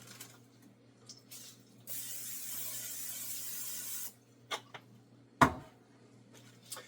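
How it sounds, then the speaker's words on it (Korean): A spray can lets out one steady hiss for about two seconds, close and fairly loud. A few soft clicks and knocks come before and after it in an otherwise quiet room. "스프레이를 뿌려줍니다."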